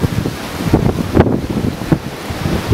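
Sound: wind blowing on the coast at Nerja, Spain

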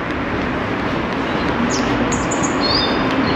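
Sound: small birds chirping in the street

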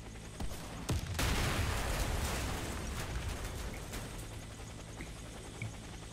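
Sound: gunfire at a vehicle in video game WarFace

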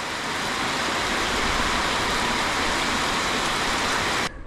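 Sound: sudden monsoon-like rain during a bicycle tour

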